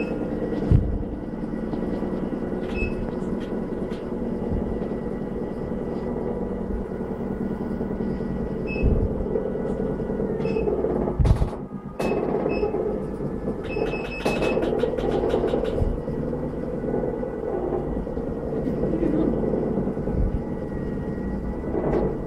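A RestArt T31 home vibration platform runs with a steady droning motor hum and faint rattling, broken by a few brief sharp clicks and knocks.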